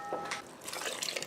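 Two cups of water poured into a mixer bowl for homemade bagel dough, a close splashing, gurgling stream that runs steadily for a moment.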